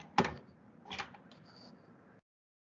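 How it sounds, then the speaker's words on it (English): A chemical storage cabinet door opens with a sharp latch click followed by a second softer clunk about a second later, then a faint hiss and brief high tone, close and alone. "So when you open the door,"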